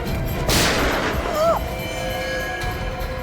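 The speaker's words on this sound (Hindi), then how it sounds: "बच्ची पे गोली चलाता है।" A single sharp gunshot rings out in a tense crime-drama scene as a gunman fires at a fleeing young girl, a loud burst that decays quickly over a faint tonal background.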